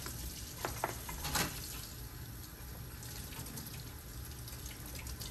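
Tap water runs steadily over dental impression trays while they are rinsed of cavicide disinfectant, a constant hiss in a sink with a few brief splashes near the start.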